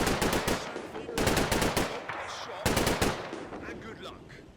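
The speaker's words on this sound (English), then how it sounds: "First Platoon's Browning sets up and begins firing at the hotel windows, trying to pick off or suppress any defenders" A Browning machine gun fires at hotel windows in the Combat Mission World War II strategy game, set in Italy: loud, close bursts of rapid automatic fire in three clustered volleys, each fading into a reverberant tail.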